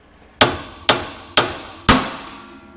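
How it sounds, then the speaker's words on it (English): A hammer strikes a tie rod on a 1976 Ford van four times at a steady pace, each blow a sharp metallic crack that rings briefly and fades, close up and loud. "you put pressure on it slowly, and then you tap it with the hammer"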